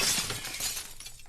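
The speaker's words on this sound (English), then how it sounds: "he's able to break some of the panes of glass a lot easier than he used to be" Glass panes shattering in the video game Happy Wheels, a loud continuous burst of breaking and tinkling glass that barely lets up.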